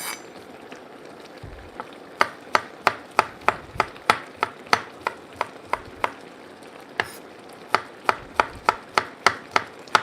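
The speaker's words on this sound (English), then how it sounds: "now I'm going to chop my garlic for my steak" A knife chops garlic on a cutting board for steak in a home kitchen, with a steady run of sharp, close knocks at a quick, even rhythm, two short pauses between bursts, and no talking.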